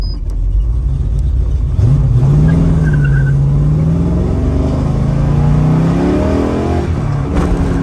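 A loud 427 V8 engine in a 1969 Chevrolet Camaro Yenko tribute revs up and accelerates hard, its deep rumble rising steadily in pitch, close by and without any talking.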